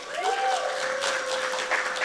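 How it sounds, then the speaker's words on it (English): The audience at a HarvardXR 2025 startup pitch showcase claps in a full round of applause, a dense, continuous wash of hands under a faint tone from the room's sound system. "One last round of applause for our startup showcase."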